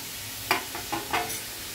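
A few short scraping stirs of grated coconut and jaggery in a hot kadhai, cooked down as the sweet filling for ukadlele modak, with a faint sizzle between the strokes. The stirs come close and fairly quiet, spaced unevenly over a low hiss.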